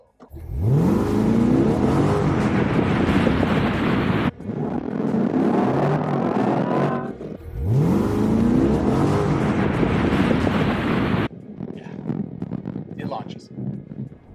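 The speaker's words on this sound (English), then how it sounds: "Here, let me give you a little demonstration of how it launches." A 2024 Chevrolet Corvette E-Ray, a hybrid with an electric motor, launches hard under launch control: two loud, surging acceleration runs each last about three seconds and are separated by brief drops, and quieter cabin noise follows at the end.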